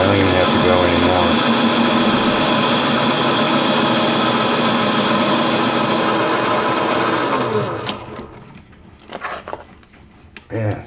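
A metal lathe taking a fine thousandth-inch cut on a primer cannon part, a steady loud whirring drone with a high whine that winds down after about seven seconds, followed by a few faint clicks and taps.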